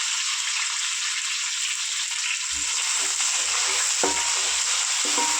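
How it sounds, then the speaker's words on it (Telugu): Sliced onions fry in a pan with spices, making a steady bright sizzle throughout. Soft low knocks from stirring break in now and then, with no talk over it. "ఉల్లిపాయలు కొంచెం ఎర్రగా వేగేదాకా ఫ్రై చేసుకున్నాం"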